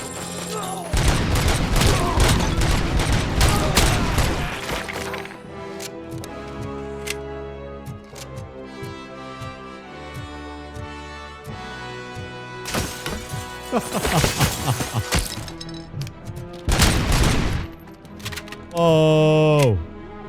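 Gunfire in Robocop: Rogue City, rapid loud bursts of shots at the start and again in the middle, with game music and tonal effects filling the quieter stretches between them.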